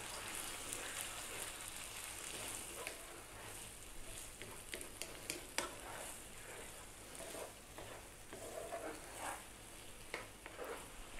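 Beaten eggs cooking with beef in a frying pan, a quiet sizzle and crackle with intermittent scraping and stirring clicks throughout, no speech.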